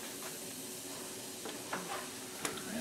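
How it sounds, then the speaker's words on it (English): Bacon sizzles softly in a skillet, a steady quiet crackle and hiss with a few small pops and stirring clicks, heard alone without talk. "throw all the bacon in the skillet. I'm going to get it almost crispy"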